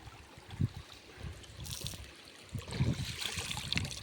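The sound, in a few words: river water flowing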